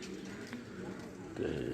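Pigeons cooing on a rooftop, a soft low coo swelling near the end over faint background noise, with a voice talking quietly in the background.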